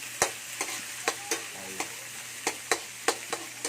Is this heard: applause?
no